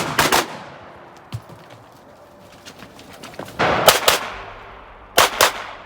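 Gunfire at a 3-gun competitive shooting match: several bursts of rapid shots from a distance, separated by quieter gaps, with outdoor ambience in between.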